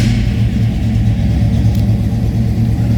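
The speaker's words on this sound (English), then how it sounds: "Go ahead and fire it up so you can hear it run." A 1962 Chevrolet Impala two-door hardtop idling after start-up, a steady low rumbling engine note with even exhaust throb, close and loud with no voices.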